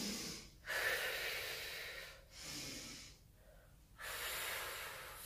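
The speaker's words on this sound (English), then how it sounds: "Breathing in, and then as you breathe up, as you come up, you're breathing out." Close, heavy breathing during a second-trimester core workout exercise: several loud, rushing inhales and exhales in a slow, steady rhythm, with short quiet gaps between breaths.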